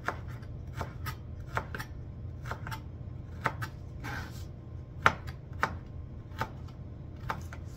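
Knife chopping fresh ginger into long strips on a cutting board, a steady series of sharp close taps in an uneven rhythm, with a low kitchen hum underneath.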